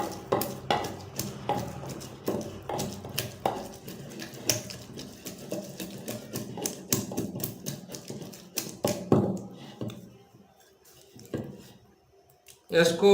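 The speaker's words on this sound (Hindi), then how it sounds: "अच्छे तरीके से हम कूट लेंगे, पिसाई कर लेंगे इसकी साग की" Mustard greens (saag) pound in a wooden mortar, giving a run of sharp, uneven thuds and knocks close by that thin out near the end, with someone talking over them.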